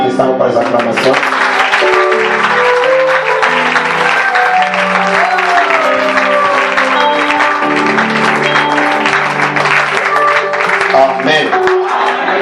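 A church congregation at an evening worship service cheers and applauds loudly and steadily, the acclamation thick with voices and music-like tones throughout, ending with a brief dip.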